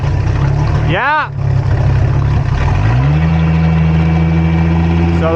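A boat engine idles with a steady, low rumble throughout, with a brief dip and a shift in pitch partway through as it shifts between forward and reverse; no one speaks over it.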